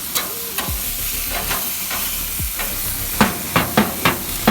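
A wet cloth rubbed across a hot grill, cleaned with water alone, gives a steady hiss of steam and sizzle, with repeated scrubbing strokes that grow louder toward the end and no voices.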